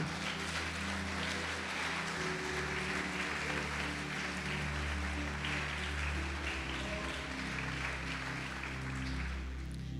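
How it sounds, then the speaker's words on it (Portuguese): A church congregation applauds during a sermon, a dense, continuous patter of clapping spread across a large room, with a low sustained tone, probably music or a hum, running steadily beneath it. "Você pode aplaudi-lo e glorificá-lo?"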